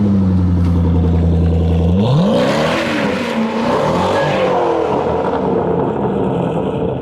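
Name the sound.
car doing a half circle burnout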